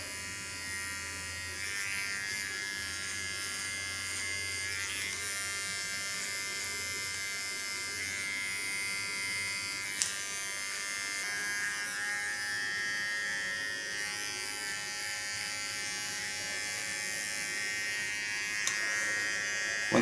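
A small Theo Knoop clipper blade shaves a nape design, giving a steady close electric buzz that runs unbroken throughout with no talking.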